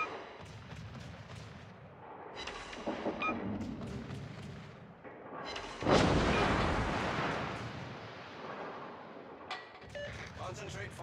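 Naval artillery in World of Warships: heavy guns fire in repeated booming salvos, with one especially loud blast at mid-clip followed by a long rumbling decay and further thuds.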